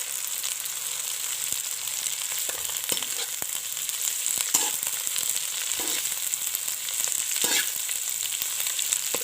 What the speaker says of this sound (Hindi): अब हम डालूंगी कैबेज और इसको अच्छे से भून लेंगे